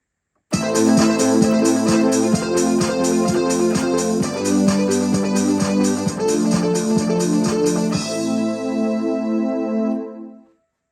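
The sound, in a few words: electronic keyboard playing a recorded track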